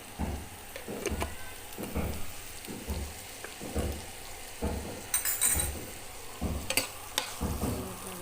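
Cumin seeds and black cumin fry with onion in oil, a soft, fairly quiet sizzle with regular stirring strokes about once a second.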